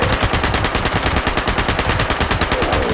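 Rapid automatic gunfire in Fallout 76, a dense, loud stream of evenly spaced shots firing continuously for several seconds with no voices.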